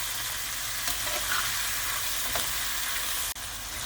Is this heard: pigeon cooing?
no